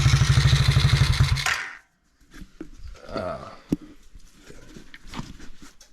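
A Tao Tao DB10 dirt bike engine, its carburetor just adjusted, runs loud and close with a steady throbbing pulse for nearly two seconds before cutting out, followed by scattered clatter and handling noises.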